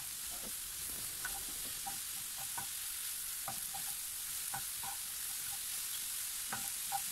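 Mushrooms are stirred into browned onions in a pan, giving a steady low sizzle with repeated soft scraping taps of a spoon throughout, close and alone with no voices.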